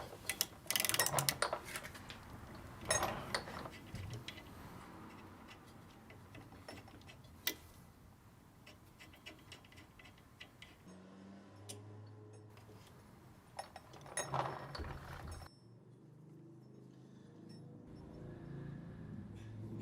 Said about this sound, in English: Loosen these bolts with the appropriate size socket.